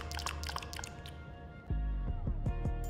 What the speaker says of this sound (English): I don't like the eating sounds